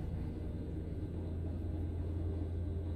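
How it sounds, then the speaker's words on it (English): A loud truck passes near a house construction site, producing a steady, heavy low rumble that holds at full strength without a break, with no talk over it. "Damn, that's a loud ass truck."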